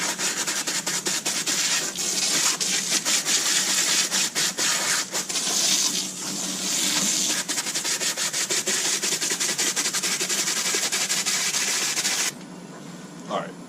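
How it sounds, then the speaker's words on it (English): A garden hose sprays water onto swimming pool cartridge filters, making a loud, steady, rough hiss that rises and falls as the stream moves across the pleats, then cuts off abruptly near the end. "So go ahead and get started hosing these down."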